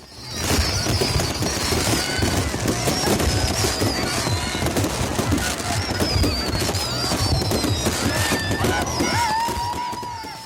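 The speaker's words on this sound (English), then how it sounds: "the completely illegal fireworks above Oslo this year" Dense crackling and popping of illegal New Year's fireworks exploding over Oslo, many overlapping bangs at varying distances with whistling rockets rising between them.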